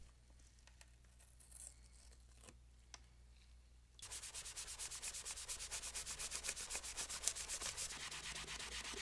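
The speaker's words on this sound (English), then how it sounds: "I'm probably being a little too aggressive with the magic eraser for many people's taste" Magic eraser scrubbing grime off a dirty PS4 console: quiet intermittent rubbing for a few seconds, then a loud, close, steady run of rapid back-and-forth strokes.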